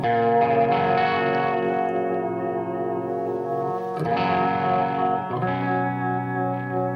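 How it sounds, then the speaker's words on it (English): A sustained electric guitar chord rings through a chorus effect pedal in mono, with a slow, subtle wobbling modulation and light distortion, restruck twice, alone without any talking. "in mono, you get a kind of a wobble effect, which is kind of nice for eerie, textural stuff"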